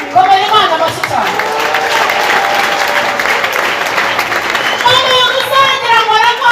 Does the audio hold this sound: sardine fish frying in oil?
no